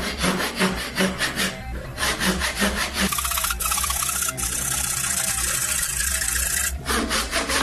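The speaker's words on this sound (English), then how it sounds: "not sure how this is going to turn out with this miter box not being clamped down" Hand saw cutting a chunk of wood in an unclamped miter box, with steady rhythmic back-and-forth rasping strokes, close and loud, pausing briefly near the middle before resuming.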